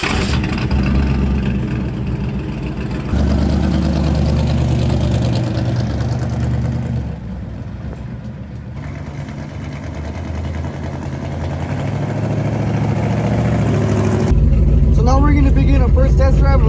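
A car with an electronically controlled automatic transmission, fitted with a CompuShift controller, running on a test drive, its engine droning and building steadily as it accelerates, loud and continuous throughout.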